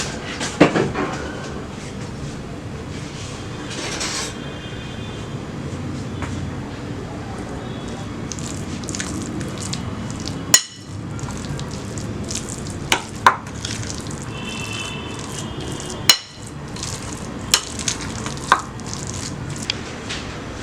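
A spiced mixture for pepper kola is mixed by hand in a bowl, giving soft squelching and rubbing sounds close by, broken by several sharp knocks and clatters.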